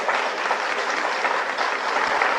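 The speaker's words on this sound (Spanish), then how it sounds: "Un aplauso para ella, por favor." Audience applause greeting disability advocate Katia de Artigues as she is introduced at a PRD event, a dense, steady clatter of many hands lasting a couple of seconds without a break.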